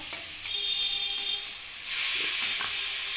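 Red amaranth greens hitting hot spiced vegetables in a pan, a steady frying hiss that swells into a louder, broader sizzle partway through, with no voices.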